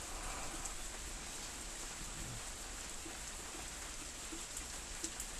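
Rain falling in a continuous even hiss, faint and distant, with a few sharper drips standing out near the end and no voices.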